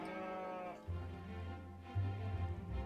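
Sheep of a rare Tuscan breed bleat in a harmonic, wavering cry that fades, followed by two lower, steadier bleats close by, with no talking.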